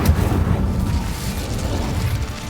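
Incendio fire spell cast in Hogwarts Legacy erupts as a loud, dense whoosh of roaring flame with a burst at the onset, sustaining a heavy rumble for a couple of seconds.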